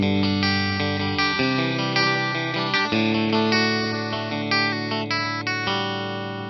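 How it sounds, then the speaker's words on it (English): Fender 70th anniversary Ultra Stratocaster electric guitar in full humbucker mode, played through distortion and chorus effects: sustained chords and picked notes ringing loud and close, continuous with no talk. "Now let's take it back to full humbucker."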